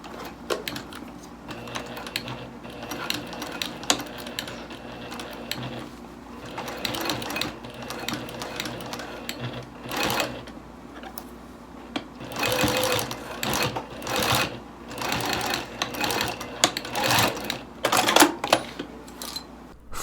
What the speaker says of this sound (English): Sew using a 1/4 inch seam allowance. Using a heavier needle will help, and just take your time and go slowly.